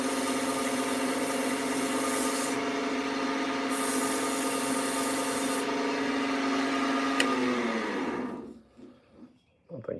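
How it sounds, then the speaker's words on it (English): Sandpaper rubs steadily against a chipped miniature wooden lighthouse, a continuous close scratchy friction sound over a motor hum that stops abruptly near the end, followed by faint handling noises. "I'm gonna fix that with some sandpaper."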